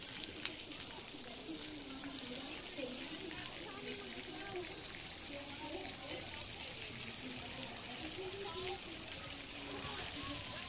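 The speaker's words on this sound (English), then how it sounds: "All the different fountains and sprinklers and just different places where they can get soaked." Fountains and sprinklers spray in a water play area for children at a resort lodge, a steady broadband hiss of splashing water throughout with people talking over it.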